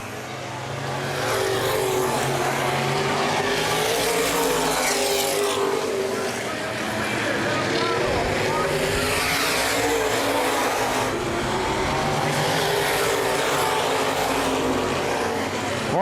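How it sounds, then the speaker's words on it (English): Open wheel modified race cars roar around Baer Field Speedway during a 2012 feature race. A loud, continuous engine drone swells and fades as the pack passes, and a commentator talks over it. "Wormcastle and Mays still at it up front for the race lead"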